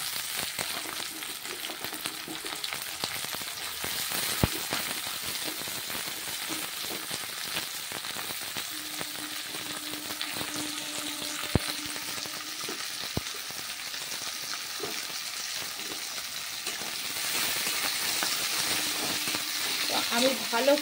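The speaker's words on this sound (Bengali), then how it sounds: "পেঁয়াজটা একটু হালকা হালকা ভাজা হয়ে এসেছে, আর আমি এর মধ্যে ক্যাপসিকামগুলো দিয়ে দিলাম।" Capsicum sizzling with lightly browned onions in a frying pan, a steady crackling fry throughout with occasional scrapes and knocks of stirring, moderately close and even.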